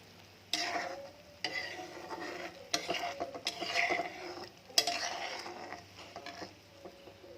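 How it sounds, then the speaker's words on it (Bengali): Spices sizzle in hot oil while being stir-fried. Several sharp scraping strokes of the stirring spoon punctuate a light crackling fry, with quieter gaps between them. "মশলাগুলো ফুটতে লেগে গেছে, একটু কষা কষা করবো, তেল ছাড়বে"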